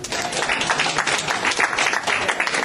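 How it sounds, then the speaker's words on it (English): A comedy-club audience at Escape Cafe breaks into a dense burst of applause, many hands clapping together close by and fairly loud for the whole moment. "Clap if you've ever read Shakespearean plays in high school"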